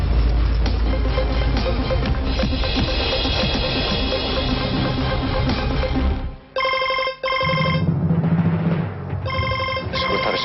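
A telephone rings in the second half with repeated bursts of bright electronic ringtone tones, which follow a dense stretch of noise.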